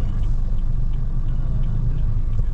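Steady low rumble of road traffic, a continuous engine drone with no voices.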